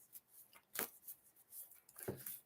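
Playing cards are shuffled by hand, heard as soft, faint papery riffles and rustles, with two sharper bursts among quieter handling sounds.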